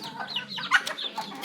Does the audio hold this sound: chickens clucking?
yes